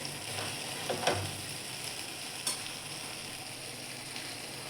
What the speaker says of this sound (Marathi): थोडंसं तेल सुटेपर्यंत व्यवस्थित शिजू द्यायचा आहे मसाला.